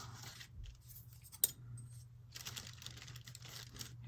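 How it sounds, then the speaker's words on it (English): Scissors cutting a sheet of letter-size paper into thirds, a few close crisp snips and slides over a low steady hum, no talk. "Now, I'm going to cut it in thirds."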